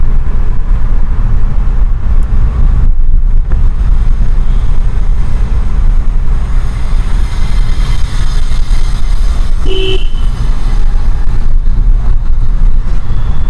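A car cruising in third gear during a driving lesson at a crossroads, with a steady, loud low engine and road rumble throughout and a brief high squeak near the end.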